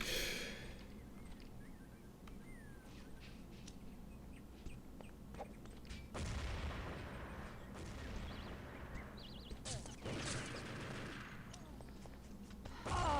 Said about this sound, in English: Perfect nade to dislodge the Americans, and in comes Bray with the M4 after just following up very nicely there after his nade.